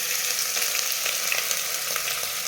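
Onion frying in hot sunflower oil with spices and green chilli in a home kitchen, a steady, bright sizzle that stays even and close throughout with no talk.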